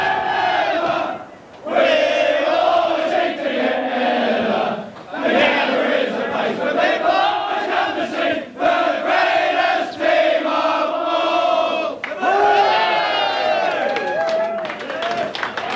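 Australian football team of the Brisbane Bears singing loudly together in the rooms after a 1996 match, a steady full-voiced chant with shouts and cheering, continuous and close.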